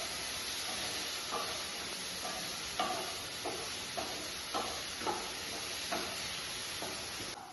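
Ripe banana pieces soften over a gas flame in a pan for a banana-and-milk pudding, giving a steady close sizzle with soft, irregular scrapes and stirring clinks throughout, no voices.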